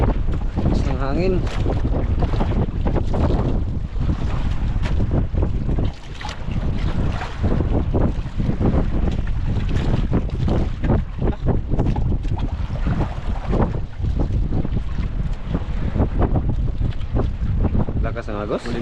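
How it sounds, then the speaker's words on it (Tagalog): Strong wind roars over the microphone aboard a small boat on rough sea, a loud, constant blustery rush with waves sloshing beneath and voices speaking through it. "Hangin ah."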